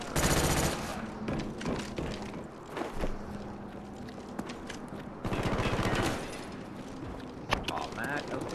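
Gunfire from a sniper rifle in the video game Black Ops sounds over a busy multiplayer soundscape, with sharp reports and bursts of shooting amid footsteps and background clatter.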